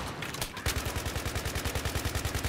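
Rapid automatic gunfire in the Battlefield 3 shooter game, a steady fast stream of loud, close shots repeating evenly for a couple of seconds.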